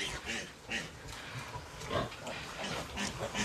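Piglets squeal and grunt in rapid, overlapping bursts close by, a busy chorus of small pig voices with no talking.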